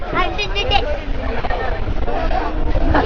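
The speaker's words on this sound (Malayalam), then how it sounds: "നല്ല കാറ്റും ഉണ്ട് കേട്ടോ. നിങ്ങൾക്ക് സൗണ്ട് കേൾക്കുന്നുണ്ടാവും കാറ്റടിക്കുന്ന." Wind buffets the microphone in a constant rushing roar at an open sunflower field in Kooriyad, Malappuram, Kerala, while people talk over it.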